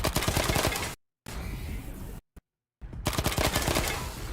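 Rapid bursts of automatic gunfire in Wasteland 3 combat while shooting at Tinker: loud, dense volleys in two stretches separated by a short silence, with one brief shot between them.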